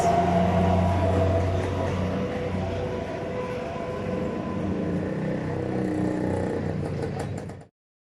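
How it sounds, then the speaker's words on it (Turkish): Steady traffic roars past a roadside shop, a loud, continuous rumble of passing vehicles that holds for about seven seconds before cutting off abruptly. "Yol kenarında olduğum için çok arabalar geçiyor."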